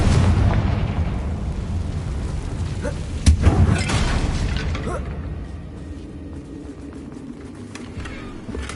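A Confringo spell blasts with a sudden booming explosion in Hogwarts Legacy on PS5, one sharp burst in the middle over a steady rumbling game background, with a character's voice speaking the incantation.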